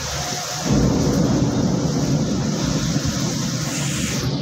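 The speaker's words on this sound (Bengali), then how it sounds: "দেখছেন কি পরিমাণে আওয়াজ হচ্ছে, আর সেই সাথে বৃষ্টি এবং ঝড়, সেই সাথে শিলাও কিন্তু পড়ছে" A thunderstorm lashes a balcony with heavy rain, gusting wind and falling hail, a dense continuous roar that swells loudly after a brief quieter start and holds steady throughout.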